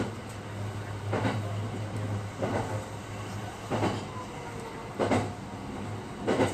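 Marine Liner train running on the Yosan line toward Takamatsu, heard from inside the car: a steady low hum with regular clacks of wheels over rail joints roughly every 1.3 seconds.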